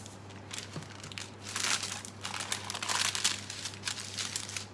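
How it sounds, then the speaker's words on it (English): Salted caramel maple fudge being pulled from its tin with a steady crinkling and rustling of paper or foil lining, fairly close and continuous, with a low background hum and no talk. "So I'll just pull it out of the tin first to make it easier to cut."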